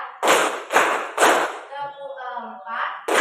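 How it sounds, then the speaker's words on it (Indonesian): A group claps hands together in counted single beats, sharp and loud, with a voice talking between the claps; three claps come close together, then a pause, then another clap. "Tepuk 1, tepuk 2, tepuk 3"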